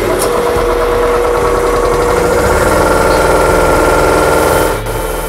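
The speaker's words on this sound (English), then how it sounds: "the compressor forces air into the tank" An air compressor chugs steadily while pumping air into a tank, a loud continuous mechanical drone with rapid pulsing that cuts out abruptly near the end.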